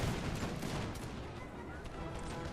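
A musket volley from musketeers in a Napoleonic battle game, a faint crackling rattle of many shots blended into a distant, continuous battlefield din.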